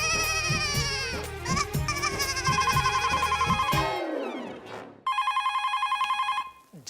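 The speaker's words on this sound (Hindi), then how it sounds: "जरूर सुंदर का फोन होगा।" A telephone bell ringing in a sitcom scene, the trill cutting in over background music and then repeating alone in a loud, steady electronic ring.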